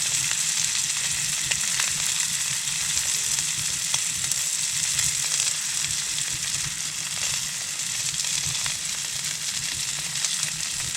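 A flat potato galette frying in a pan during winter camping in a heated tent, a loud continuous sizzle and crackle that holds steady throughout.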